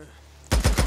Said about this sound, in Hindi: बट यहाँ तो गोलियां चल रही है दोस्तों।